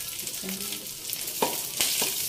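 Onion and garlic sautéing in hot cooking oil for an Ilocano and Pangasinan style sautéed chayote-shoot dish, a steady close hiss of frying with a couple of brief knocks from the pan or utensil.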